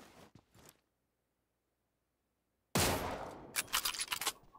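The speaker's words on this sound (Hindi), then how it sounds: "Win 94 जैसा कुछ साउंड है इसका।" Gunfire from a Win94-style lever-action rifle in the PUBG Mobile video game: after a stretch of silence comes a loud burst of sharp, closely spaced shots. Brief, clipped sounds are heard before the silence.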